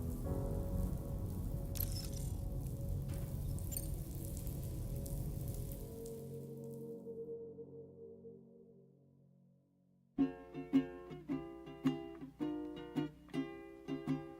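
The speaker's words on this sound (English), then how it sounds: "Raindrops are falling on my head" Rain in the video game Death Stranding 2 on the Beach, a steady dense patter of drops on surfaces that fades to near quiet. Music with rhythmic struck notes then begins.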